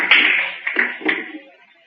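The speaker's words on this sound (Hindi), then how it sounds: "आओ तालियां।" Short burst of audience clapping during a Hindi history lecture, a brief dense patter that fades within two seconds.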